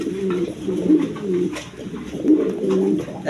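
Pigeons kept for breeding coo repeatedly close by in soft, rhythmic low warbles, several birds overlapping against a faint background hum, with no talk.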